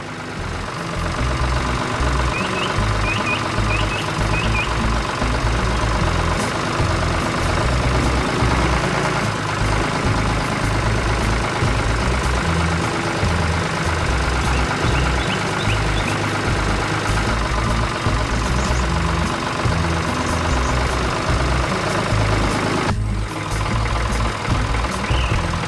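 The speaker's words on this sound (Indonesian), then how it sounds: "Lihat itu, traktor hijau dengan orang di dalamnya berjalan di bawah pohon" A green tractor engine in a cartoon, a loud steady idling rumble running continuously throughout, with a few faint high chirps and a brief drop near the end.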